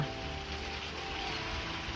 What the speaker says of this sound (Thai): มีเสียงฝนแทรกเข้ามานิดหน่อยนะครับ